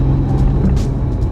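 Toyota JZX100 Chaser engine running steadily up close with a dense low rumble, holding a fairly even level through a gear change with only slight dips, no voices over it.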